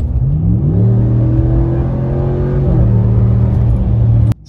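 A 2019+ Ram 1500 pickup engine revving on a sudden pedal snap, a loud close rising whine and rumble that climbs in pitch, holds high, then drops slightly before cutting out.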